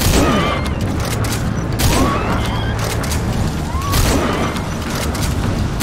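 Gunfire and explosions fill a firefight in Metal Gear Solid V, a loud continuous barrage of booming shots and crashes with dense rumbling impacts from start to finish.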